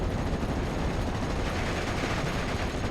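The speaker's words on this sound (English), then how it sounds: "A lot of machine guns still firing." Dense, continuous machine gun fire rattles without pause in the WWII strategy game Steel Division 44, layered bursts blending into a steady battlefield roar with no talking.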